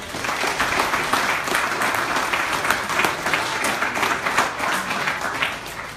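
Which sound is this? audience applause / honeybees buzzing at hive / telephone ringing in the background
audience applause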